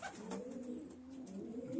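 Soft, low pigeon cooing repeats in rolling phrases throughout, fairly close, with a faint hiss of background noise and no voices.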